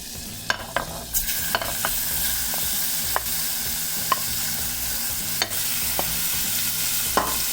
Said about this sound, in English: just stir that till it's fully cooked, so you have to keep stirring